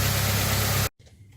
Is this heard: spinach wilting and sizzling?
no